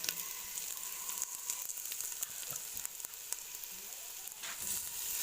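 Garlic tipped into browned ginger in a pot for Kenyan pilau, frying with a loud, dense, continuous sizzle close by, a few clinks and stirring scrapes cutting through.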